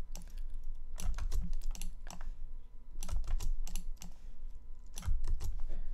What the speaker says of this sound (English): So I'll just hit Command 8 on my keyboard for the rest of the characters.